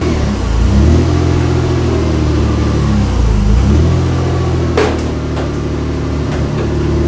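A car engine just started after an engine swap idles loudly up close, rising and falling through several revs, with a few sharp clicks near the end.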